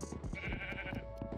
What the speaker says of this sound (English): I hear that sheep.